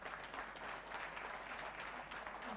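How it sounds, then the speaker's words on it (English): A crowd at a business conference applauds continuously, a dense and even patter of many hands clapping at moderate volume. "Let's give a huge round of applause,"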